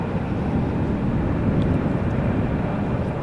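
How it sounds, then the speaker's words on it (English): KLM Boeing 777-200 arriving at Amsterdam Schiphol, heard as a steady, loud broadband roar of jet engines with no clear change and no voices. "This is KLM flight 462. Arriving from Tel Aviv. Boeing 777-200, underway now for 4 hours."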